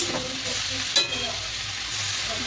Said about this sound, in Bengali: এবার এটাকে ভালো করে গ্যাস পুরো হাই আঁচে করে দিয়েছি, ভালো ভালো করে একটু ভাজা হয়ে যাক।